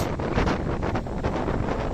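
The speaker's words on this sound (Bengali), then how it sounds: "প্রচণ্ড বাতাস সেই বাতাসের সাথে যুদ্ধ করে পারছি না মারাত্মক বাতাস" Strong wind on a beach at Teknaf buffets the microphone in a loud, continuous roar with gusty surges, and no voices.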